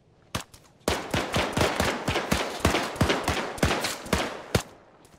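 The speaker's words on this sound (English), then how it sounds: "Be advised, gunfire is going to be us." Rapid bursts of automatic gunfire crackle in quick succession in the video game ArmA 3, loud and close, with a few isolated shots at the start and end.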